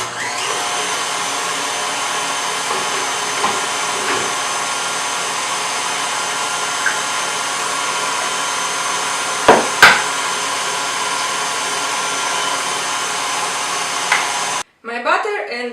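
Electric mixer whipping butter and eggs in a bowl for chocolate cake, a steady close whirring drone running unbroken for the whole stretch, with a couple of brief knocks against the bowl before it cuts off near the end.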